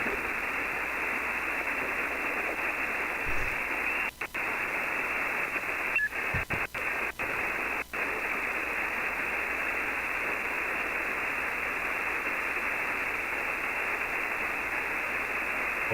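Ham radio receiver hiss and static while tuning for a clear frequency on the 20-meter band, a steady band-limited noise wash with a few brief dropouts and clicks throughout.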